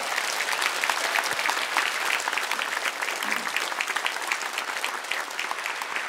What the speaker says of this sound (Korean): 하나님께 영광의 감사의 박수를 드리고 환영의 박수로 환영하도록 하겠습니다